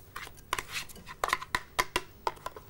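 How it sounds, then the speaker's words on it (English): A spoon clinks and scrapes in a bowl as egg white is stirred into a half-frozen lemon sorbet mixture, a quiet series of irregular light taps and knocks, close up and faint. "Stir it all together."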